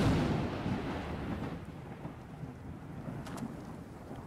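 Rain and rolling thunder in the video game ARK Survival Evolved on the Ragnarok map: a heavy, low rumble that fades into a steady hiss of rainfall, with a few brief sharp sounds near the end.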